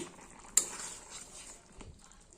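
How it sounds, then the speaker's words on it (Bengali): A lid lifted off a pot of potato, pointed gourd and pea curry: a single sharp metallic clink, then a soft sizzle and faint clatter, quiet and close. "এবার চাপাটা তুলে নিচ্ছি।"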